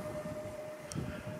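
A faint, steady steam train whistle rings out in the distance over low rumbling background noise, at Blue Anchor on the West Somerset Railway.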